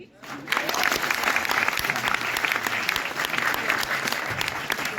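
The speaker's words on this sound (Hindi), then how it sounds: "तो हो जाए जोरदार ताली।" Loud, sustained audience applause fills a poetry-recital event, rising sharply after a brief quiet start and continuing steadily with dense clapping throughout.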